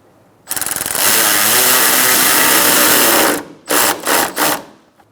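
A power tool whirs loudly for about three seconds while driving a silver bolt on a Ford Focus grille shutter, then gives three short bursts to finish seating it.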